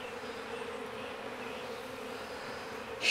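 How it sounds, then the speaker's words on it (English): Honey bees buzzing on a hive frame during a late-May swarm capture in Jacksonville, Florida, a steady, close, droning hum with no pauses, swelling slightly at the end. "Lots of bees on this frame."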